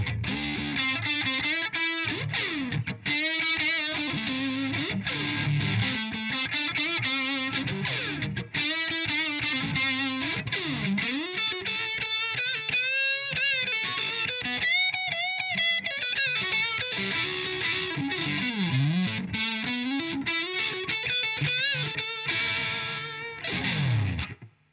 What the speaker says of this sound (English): high gain, Mark 2 C Plus from a Mark 5, 90 watt